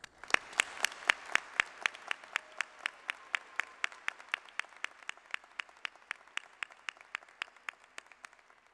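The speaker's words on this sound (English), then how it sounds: "Please join me in applauding the faculty and thanking them for their contributions" Graduation audience at a Jacksonville State University fall ceremony applauding the faculty: steady, evenly spaced claps that stand out sharply, fairly quiet and distant, tapering gradually over about nine seconds with no talking.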